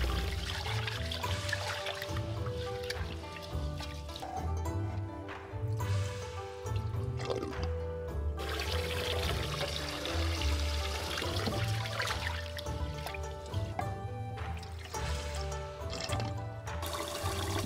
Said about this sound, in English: Wash and drain the rice 2 to 3 times until the water is only slightly milky.